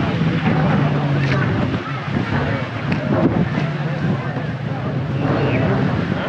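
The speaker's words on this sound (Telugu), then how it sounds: "Speed boat." Speed boat out on the sea off Goa, its engine a steady roar heavily buffeted by wind noise across the microphone, close and continuous throughout.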